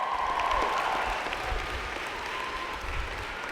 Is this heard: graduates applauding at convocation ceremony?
yes